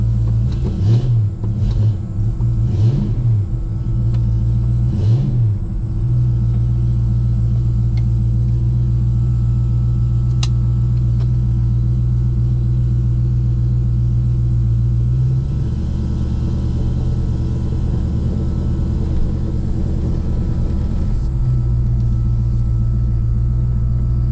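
A cold carbureted car engine idles steadily and close by with a deep, constant rumble, giving a few light throttle blips near the start and a slight change in its note partway through.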